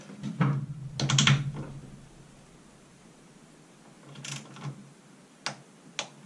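A torque wrench set to 22 newton meters clicks sharply while bolts on a Triumph Spitfire 1500 steering rack are tightened. A quick cluster of clicks comes early, then separate single clicks follow after a quiet pause.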